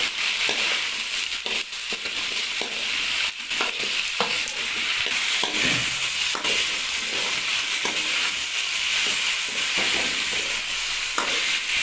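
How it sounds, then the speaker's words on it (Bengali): Vegetables frying and being stirred in a pan with browned onions, a steady loud sizzle with repeated scraping and crunching stir strokes throughout, no talk. "আমাদের পেঁয়াজ ব্রাউন হয়ে গেছে এবার আমরা সব সবজিগুলো অ্যাড করব"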